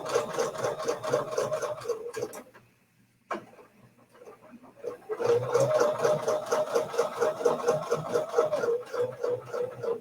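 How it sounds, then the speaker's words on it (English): A sewing machine stitches around a holly leaf template in a rapid, even rhythmic chatter, pausing briefly midway with a quiet gap before resuming at full speed; close and loud, no talking. "we're just going to stitch around the template here"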